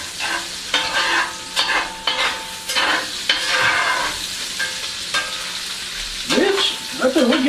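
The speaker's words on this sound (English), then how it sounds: "Get the bacon, just another little stir." Bacon fries in a pan with a steady, loud sizzle while a utensil stirs it, scraping and clacking against the pan every second or so, close by and without talk.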